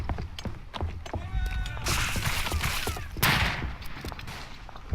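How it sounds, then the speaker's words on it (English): Mortar and rifle fire in the First World War trench shooter Verdun, a chaotic battlefield of repeated sharp explosive cracks and rumbling blasts, with bursts of heavier impact and faint voices beneath the gunfire. "calling mortars again"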